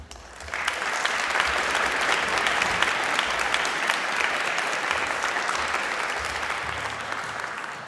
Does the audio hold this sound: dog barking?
no